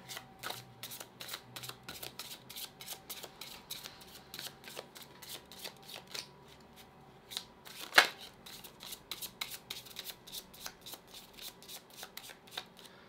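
Tarot cards shuffled and picked by hand: a quick, steady run of soft papery flicks and slaps, close and fairly quiet, with one sharper snap midway.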